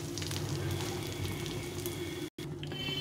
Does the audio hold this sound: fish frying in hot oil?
yes